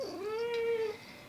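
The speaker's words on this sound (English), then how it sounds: "This is my cat." A house cat lets out a single drawn-out, wavering meow close by, clear and fairly loud against a quiet room during an indoor yoga session.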